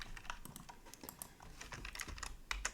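Rapid, irregular keystrokes on a computer keyboard, close and clear, clattering steadily with brief pauses and no voices.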